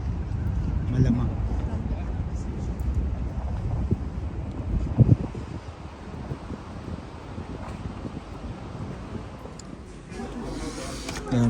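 Gusty wind rumbles and buffets the microphone outdoors in an open area with no buildings blocking it, in Kuwait, with murmured talk faintly underneath and a loud gust near the end.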